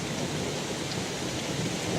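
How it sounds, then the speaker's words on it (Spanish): A thunderstorm over a mountain garden, with a dense, even wash of rain mixed with deep, distant rumbling thunder, faint and steady throughout with no voices. "la montaña retumba con el eco de la tormenta"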